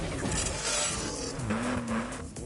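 A Porsche race car's engine roars and revs during a racing game, with tires squealing briefly in a busy, continuous mix of engine noise and no speech.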